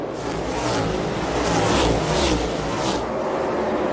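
NASCAR Cup Series cars roar around Bristol during the Bass Pro Shops night race, a dense, continuous engine drone with swelling passes and a loud crowd-like wash, no speech.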